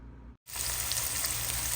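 Garlic, onion and ginger sauté in hot oil for ginisang kalabasa, a loud, close, continuous sizzle that starts abruptly after a short silence and holds steady.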